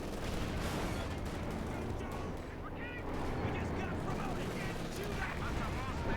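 Gunfire and bazooka shots from Company of Heroes 2 as infantry fire on a Panther tank: dense, continuous battle noise with repeated shot bursts and booms, loud and busy throughout.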